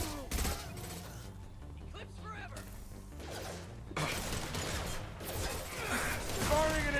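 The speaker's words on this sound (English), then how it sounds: "Firing an impact shot." Impact shot and mixed gunfire in the Mass Effect 2 video game, with bursts of shots, mechanical clatter and sharp smashes coming in waves. Character voices come through during the gaps.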